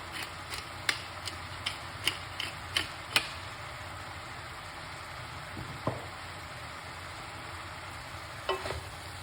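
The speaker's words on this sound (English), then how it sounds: "Stir them up." A utensil stirring food in a frying pan over a steady, low sizzle, making a run of light, regular clicks and scrapes early on and a few sparser ones later, with no talking.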